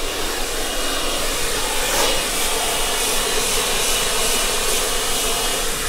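A hair dryer blows continuously during a professional salon blow-dry, a loud, steady airy roar held close to the microphone for the whole stretch, with no talking.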